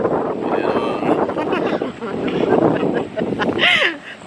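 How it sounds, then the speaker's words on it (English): Strong gusts buffet the microphone with a continuous low roar on Seven Mile Beach in Negril, Jamaica, while a person talks over the rushing wind. "it's really windy, as you can see."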